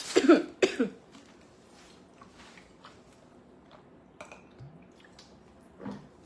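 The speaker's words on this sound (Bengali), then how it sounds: "কাশি আর কমছে না" Repeated coughing from a person suffering a cough lasting over three weeks: two loud, close coughs at the start, then softer scattered rustles and a faint final cough, in a quiet indoor room.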